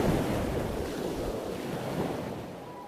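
Open-sea waves surging around a ship on an expedition, a continuous wash of surf blended with wind noise, moderately loud and unbroken, with no voices.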